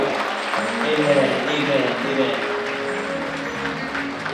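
Applause from a church congregation at a year-end thanksgiving evening, a steady wash of clapping that lasts the whole stretch, with voices speaking and calling out over it.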